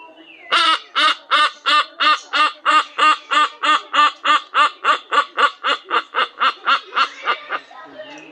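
Parrot at Parrot Mountain giving a long, rhythmic series of about twenty evenly spaced, nasal, laugh-like squawks, close and loud, all alone.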